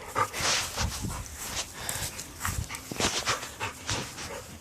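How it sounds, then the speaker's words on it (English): Dogs pant quickly and heavily close by during play, with scuffling and small movement noises mixed in and no talking. "These are my dogs."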